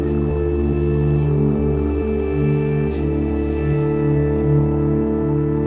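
Omnisphere synth preset Last Train Home plays a sustained, dark, droning pad with layered steady tones and slow pulsing swells, continuous and even throughout.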